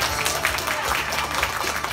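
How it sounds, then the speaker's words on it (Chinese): Audience applause at a stage magic show, a brief burst of dense clapping from a crowd that lasts about two seconds, with voices mixed in. "掌声鼓励。"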